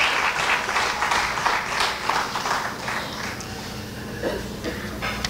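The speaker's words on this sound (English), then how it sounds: "get a wonderful round of applause" Indoor audience at a cruise pier loan signing ceremony applauds the contractors, a moderately loud round of clapping that gradually thins out over several seconds.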